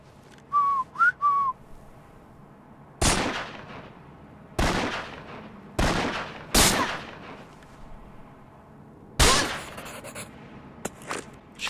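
Enemies whistle in the video game Burden: a few short, bright whistle notes near the start, followed by several loud, booming blasts spaced a second or two apart that fade into quiet.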